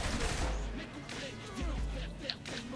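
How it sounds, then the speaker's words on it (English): Gunfire rings out as a police officer is shot at in the video game Saints Row The Third: quiet bursts of shots over a low rumble, mixed with a voice talking. "Well, I am shooting a cop."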